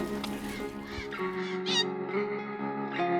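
Birds in an Australian desert along the Canning Stock Route call out in a quick run of harsh, echoing, squawking cries that overlap and rise and fall over a few seconds, fairly close and clear.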